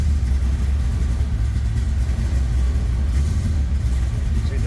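The engine of a 1970 Chevrolet Nova idles after a cold start with a steady, loud, deep rumble. It stays continuous and close throughout, with no talking heard.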